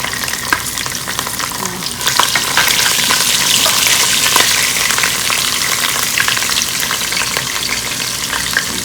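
Green chili and onion frying in oil for mutton curry, a loud close sizzle that swells after the first couple of seconds, with scraping stirs and no voices.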